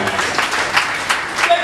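A church congregation applauds in a steady burst of clapping, moderately loud and continuous, with faint voices mixed underneath.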